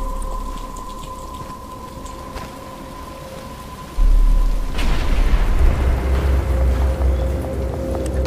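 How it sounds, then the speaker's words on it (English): Steady rain in Batman: Arkham Asylum, a broadband wash that thickens into a heavier, louder downpour about halfway through, with low rumbling underneath and game music tones above. "But it's starting to rain."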